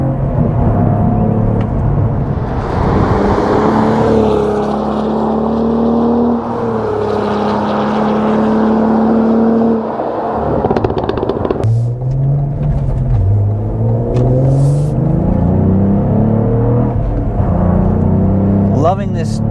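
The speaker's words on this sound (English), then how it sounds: "you can feel the car rotating around the bends and traction control systems kicking in and keeping you planted" A Cadillac CT4 Blackwing with a six-speed manual is driven hard around bends, its engine note rising and falling steadily at close range, with someone talking over it throughout.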